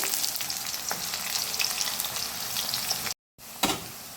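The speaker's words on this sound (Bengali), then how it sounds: "পেঁয়াজটা কিছুটা বাদামি রঙের ভেজে নেব।" Onions fry in hot oil in a wok, left over from frying soy-chunk dumplings, with a loud, dense sizzle close by. A short cut breaks it near the end, then a stirring scrape follows.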